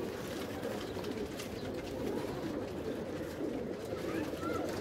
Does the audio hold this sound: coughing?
no